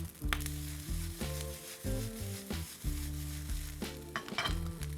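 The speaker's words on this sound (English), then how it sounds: "I toss the rice with the oil, and now I'm going to kind of spread it out a little bit" Rice tossed in oil fries over high heat on a gas stove, a steady crackling sizzle with stirring scrapes, under a droning background hum.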